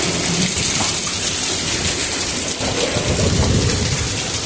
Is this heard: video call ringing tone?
no